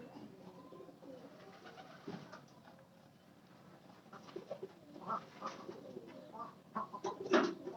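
Pet pigeons in a loft cooing, soft repeated throaty coos that grow louder and busier toward the end, heard at close range in a quiet setting.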